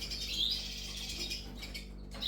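Lesser redpolls and siskins in an indoor aviary give faint, high twittering chirps over a steady low room hum. No voices are heard.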